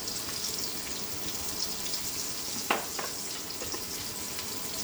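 Potatoes with a pinch of turmeric fry in a pan over low heat, giving a steady close sizzle with a brief clatter of stirring midway.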